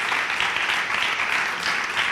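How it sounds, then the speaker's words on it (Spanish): Steady applause from a crowd, a dense wash of many hands clapping throughout, fairly loud and sustained with no talking. "eso de los aplausos"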